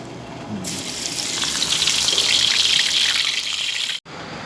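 Shrimp heads dropped into hot oil and deep-frying in a pan: a loud, close, bubbling sizzle erupts after a quiet start, swells steadily, then cuts off abruptly near the end.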